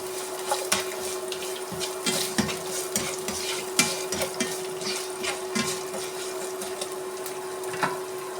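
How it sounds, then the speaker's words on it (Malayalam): Green chilies, curry leaves, ginger and garlic sautéing in a pan, with a steady close sizzle broken up by repeated stirring scrapes and taps of the spatula, heard alone. "പച്ചമുളക് കറിവേപ്പില ഇഞ്ചി വെളുത്തുള്ളി നന്നായി വഴറ്റിയെടുക്കണം"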